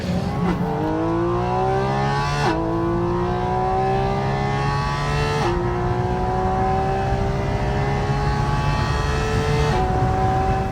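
A Koenigsegg Regera engine revs hard and loud, pitch climbing through repeated gear shifts, each rise followed by a sharp drop.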